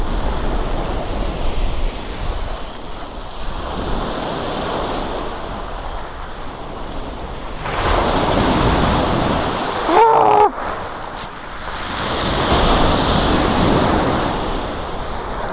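Black Sea surf at Simeiz, Crimea, rolls in and breaks on the shore in repeated surges, loud and close, with wind buffeting the microphone and a brief clatter in the middle.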